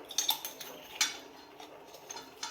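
A spoon stirs coffee powder into hot milk, making light, quick clinks against the cup rim, soft and close, with brief gaps between taps.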